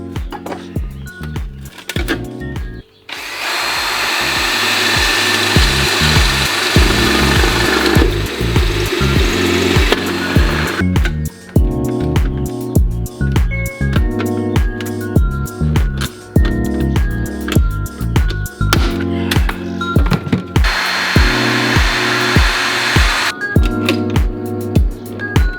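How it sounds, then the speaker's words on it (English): A power drill bores holes through a sheet-metal kill cone for dispatching chickens, a loud steady whine broken into bursts by short pauses and restarts, with the pitch shifting as the bit bites. "get them drilled in a few spots and pop riveted together"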